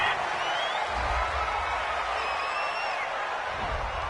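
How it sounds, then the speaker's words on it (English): Home stadium crowd in a Madden NFL video game simulation of Cowboys vs Eagles, cheering a penalty flag on third down: a dense, steady roar of many voices with a few whistles rising above it, continuous and loud. "This home crowd, they're happy with that call."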